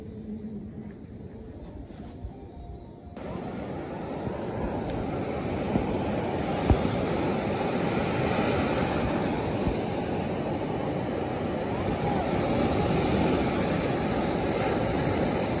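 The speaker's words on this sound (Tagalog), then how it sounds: "Lalaki ng alon, guys." Large ocean waves roll onto a shore as a dense, steady roar that swells louder after a few seconds and stays constant, with no voices.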